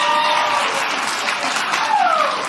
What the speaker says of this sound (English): Thank you for clapping for my panties